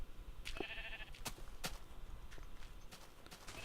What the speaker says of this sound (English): I should be having some sheep babies soon. Yay! Sheep babies.